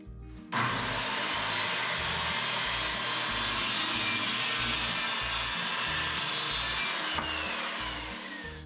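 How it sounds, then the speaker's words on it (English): A Makita circular saw rips through a wooden shelf board along a straight edge for a workbench, starting abruptly and holding a loud, steady whine with rough wood-cutting texture for about seven seconds before spinning down. "I'm going to set up my straight edge on here now to cut that off with the Makita saw."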